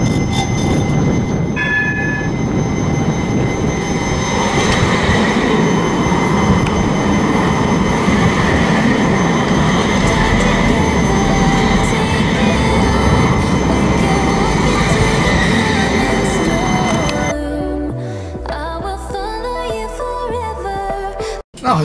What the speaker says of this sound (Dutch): We gaan nu terug met deze tram naar Nieuwegein Centrum.